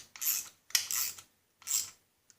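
Ratcheting or tightening bursts from a wrench on a fastener of a motorcycle chain case during assembly, three short rasping strokes with brief pauses, then a faint click, close and fairly quiet.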